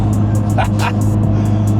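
A Nissan GT-R engine idles and rumbles loudly up close while sharp exhaust pops and crackles burst out in a rapid, irregular series.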